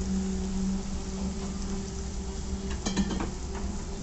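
Egg dropped into a pan beside vegetables frying for a chicken sizzler: a steady close sizzle and crackle with a low background hum, plus a brief cluster of sharper spatters near the end.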